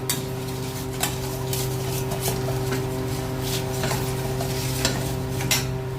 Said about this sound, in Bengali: কড়াইতে তেল বসিয়েছি, আর এই শুকনো লঙ্কা, তেজপাতা আর কালো জিরে ফোড়ন দিলাম